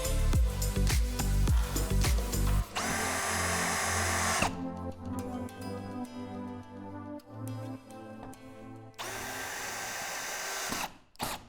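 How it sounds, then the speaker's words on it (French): A power drill drives screws into wood and MDF parts of a homemade folding workbench, with several loud bursts of whirring separated by short pauses and handling noise, close by and without talk. "Vissez les parties ensemble."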